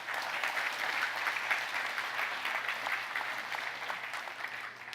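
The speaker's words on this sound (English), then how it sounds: "if we can actually get a round of applause for John right now" An audience at a blockchain forum gives a sustained round of applause, many hands clapping steadily and fairly close for several seconds before easing slightly at the end.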